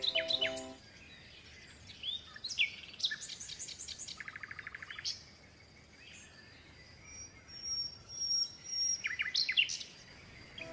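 Parrot calls sounding as bright, sharp chirps and squawks in separate bursts, with a quick rapid trill in the middle, fairly close against a quiet background.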